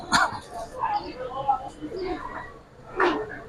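Giribaz and colouring pigeons coo on a city rooftop, soft repeated coos mixed with nearby people talking and a brief bark-like sound.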